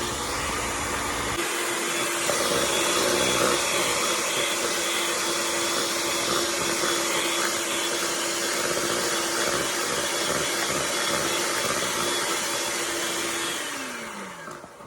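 An electric mixer whips cold cream until thick and fluffy, a loud steady motor whir that starts abruptly and runs continuously, its pitch sliding as it stops near the end.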